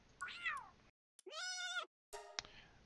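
A cat-like Pal creature in Palworld meows three times, separated by brief silences, clear and moderately close with no talk.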